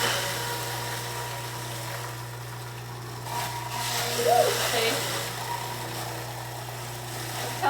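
A juicer motor runs with a steady low electric hum through the whole stretch while someone talks over it, with faint rattling from the produce being juiced.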